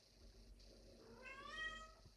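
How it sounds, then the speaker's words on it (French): A house cat meows once, a short rising-then-falling cry heard close by over a quiet indoor background. "Mon chat qui dérange"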